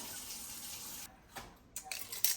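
Cold water running from a tap for a cooking recipe, a steady faint hiss of flow that cuts off after about a second, followed by a few small splashes and trickles.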